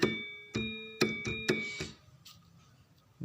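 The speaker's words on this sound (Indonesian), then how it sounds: "ini suara saron, persis sama dengan tadi" Self-edited saron gamelan samples strike several bright metallic tones in an even rhythm, each note ringing and fading before softer trailing sounds at the end.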